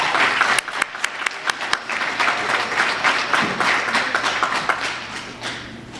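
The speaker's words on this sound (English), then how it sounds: "Let's give him a round of applause." Applause from an audience at a middle school giving event, with loud close claps at first, then a fuller, steady round of clapping that tapers toward the end.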